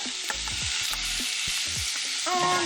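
Jumbo shrimp sear in a hot pan with a loud, steady sizzle, broken by several quick clatters and scrapes as they are placed and moved, no talking.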